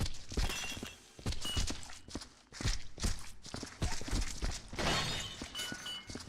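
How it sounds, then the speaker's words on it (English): Glass bottle smashing in the video game Viscera Cleanup Detail, a run of sharp, bright shattering crashes and clattering impacts repeating across the stretch, fairly loud with no talking over it. "Oh great, the bottle just smashed."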